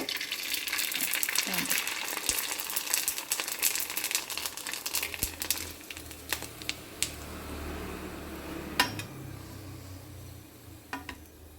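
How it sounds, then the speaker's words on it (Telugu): Homemade papad frying in hot oil, a steady broadband sizzle with crackling pops throughout, moderately close, while faint background clatter and low voices are present. "మనం తయారు చేసుకున్న పాపడ వేస్తున్నాం"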